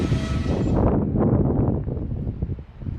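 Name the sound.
train coming to a stop past a switch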